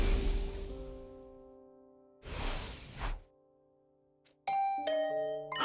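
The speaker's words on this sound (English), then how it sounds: "Is that my doorbell?" A doorbell chimes two separate times with a ringing ding-dong in The Hundred Line video game. A swoosh follows, then a bright melodic cue of stacked tones. The doorbell sounds are clear and close, with no voices.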